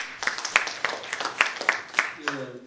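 Audience applause at a Yangsan city council by-election candidates' debate, a short burst of brisk clapping from a modest crowd, fairly close and steady before fading as a voice begins.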